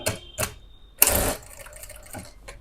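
A sewing machine stitches the neck of a kurti through its main fabric, heard as short close bursts of mechanical whirring with a louder, longer run in the middle and no talking.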